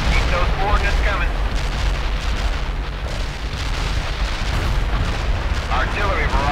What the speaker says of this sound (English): Artillery barrage turned the target area into death.